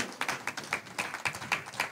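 A church congregation clapping rhythmically during a Telugu worship sermon, a steady train of about seven or eight sharp claps in even beat, moderately loud and without talk.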